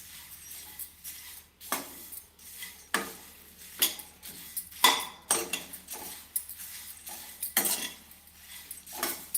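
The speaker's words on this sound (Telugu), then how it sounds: "బరుగులనైతే కాస్త క్రిస్పీగా అయ్యేంత వరకు వేపుకోవాలి మాడనివ్వద్దు" A utensil scrapes and taps against a pan in irregular strokes as puffed rice is stirred while dry-roasting over a low flame. The clinks are moderately close and carry no speech.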